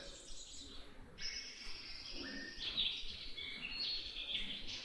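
A Dartford warbler sings rapid, quickly changing high notes mixed with other birds, including a pigeon, out in open country; the thin chirpy phrases sit over a soft background hum and come moderately near.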